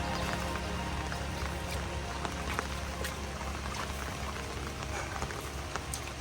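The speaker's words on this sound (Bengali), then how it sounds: "বৃষ্টির মধ্যেই চারিদিকে টুপটুপ করে বৃষ্টি পড়তেছে। বৃষ্টির শব্দ হয়তো পাচ্ছেন।" Rain pattering steadily over a rice paddy field, a dense, even wash of drops and splashes continuing throughout at moderate loudness with no talking.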